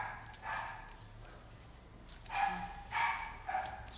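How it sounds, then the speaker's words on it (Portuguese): Small dogs bark in short bursts, several sharp yaps clustered in a rhythm and fairly close, set against a quiet background with no talking. "Os cachorrinhos estão dando oi."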